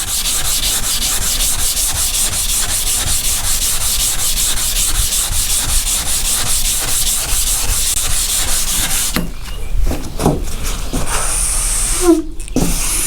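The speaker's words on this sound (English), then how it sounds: "Go in the X pattern, back and forth," A car body panel is wet sanded by hand in a back-and-forth X pattern to remove guide coat after bodywork, a loud, close, rhythmic rasping rub that keeps going, then gives way to a few knocks and handling sounds.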